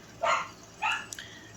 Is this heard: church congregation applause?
no